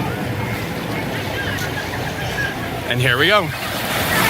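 Wave pool at Typhoon Lagoon, a Disney water park, with a broad steady wash of water and crowd noise throughout, while a person speaks briefly near the end.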